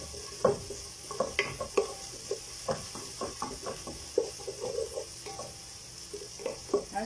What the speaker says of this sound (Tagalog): Try lang natin siya lumambot ng konti yung onion.